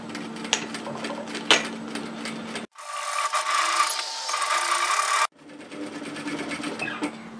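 A sewing machine stitching a woven-fabric cape runs in a steady, fast whir for a few seconds, close and clear, between quieter stretches of light handling noise.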